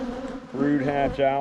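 Honeybees swarm around an open hive during an inspection, their steady buzzing droning throughout and swelling louder as insects pass close, while someone talks over it.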